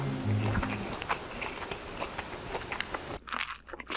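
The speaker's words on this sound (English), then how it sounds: "I really hope the chewing gets picked up on the camera." Someone bites and chews crispy yet soft food during a mukbang, giving close, repeated crunches and crackles in an irregular rhythm, with no talking.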